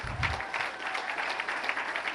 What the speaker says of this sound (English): A round of applause to Vince.